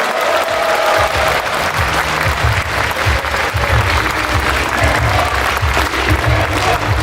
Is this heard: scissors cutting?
no